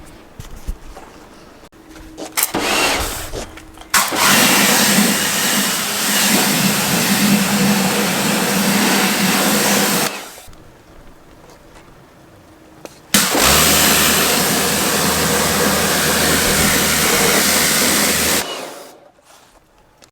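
Water spray rinsing dirt and brake dust off car wheels, heard in two long, loud bursts of steady hissing spray over a low motor drone, separated by a short pause.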